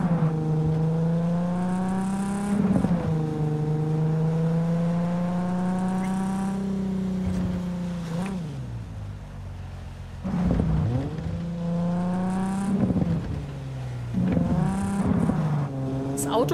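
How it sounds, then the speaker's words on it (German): A car engine in Cyberpunk 2077 drones loudly and steadily, its pitch rising and falling as it revs and shifts through several cycles, close and continuous throughout. "Das Auto klingt echt auch schwierig."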